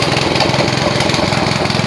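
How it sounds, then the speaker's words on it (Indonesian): A Quick Capung mini hand tractor engine chugs along at steady throttle, loud and close, its rapid regular firing pulse forming an unbroken drone with no voices. "traktor quick capung mini"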